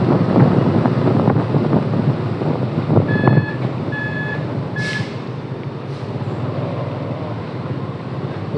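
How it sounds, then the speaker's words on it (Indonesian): A large eight-wheel truck reverses through a narrow lane at a warehouse, its backup alarm sounding three short repeated beeps over steady engine rumble and wind buffeting the microphone. "truk lebih besar lagi tuh, truk 8 roda ya kalau nggak salah"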